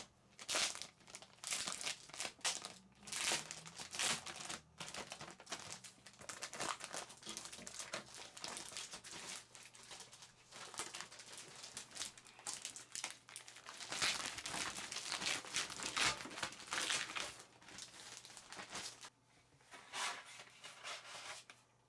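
Protective plastic film on the glass door of a Bambu Lab H2C 3D printer being handled during unboxing, crinkling and rustling steadily and close up for about twenty seconds, with a faint low hum beneath.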